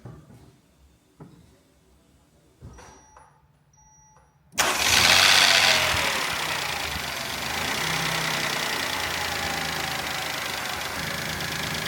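A Peugeot 2008 1.2 PureTech engine, just after a wet timing belt replacement, cranks and fires abruptly after a few faint clicks and knocks, then settles into a steady, close, loud idle that runs to the end.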